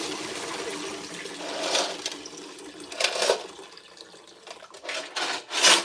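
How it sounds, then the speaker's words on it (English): Aquarium water poured into a bucket during a tank water change, with a few separate splashing, gushing pours over a quiet background, no talk. "I'm dumping that into a bucket, not down my drain."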